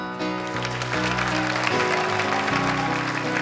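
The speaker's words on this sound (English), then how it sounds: "Big round of applause for Daniel Cater." Audience applause at a stage musical about hate crime, a steady wash of clapping mixed with sustained music running underneath throughout.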